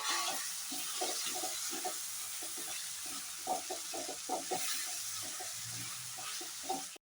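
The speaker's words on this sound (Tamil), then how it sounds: "நீங்கள் லைட்டாக இது கூட நல்லா சேர்த்து நீங்கள் ஃப்ரை பண்ணுங்கள்." Capsicum and tomato fry in a pan for a creamy pasta, a steady close hiss of sizzling with light stirring clicks throughout, ending in a brief cut.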